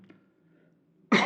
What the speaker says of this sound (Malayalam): അതുകൊണ്ടാണ് ചുമയൊക്കെ.